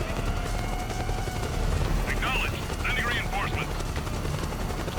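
Helicopter in the video game Metal Gear Solid 4, a steady loud rotor drone filling the scene under game effects and chirping bursts, with a person talking over it.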